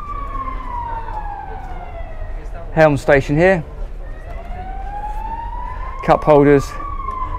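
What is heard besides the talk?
fire engine siren passing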